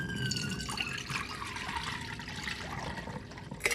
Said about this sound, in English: They submerge the samples in chlorine